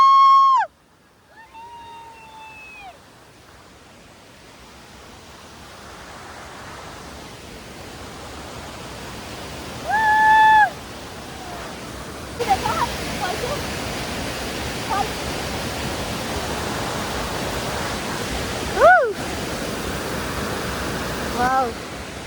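Waterfall on a trek near Sikles in Nepal, a steady broadband rush of falling water throughout, with a few brief whistle-like tones and voices over it.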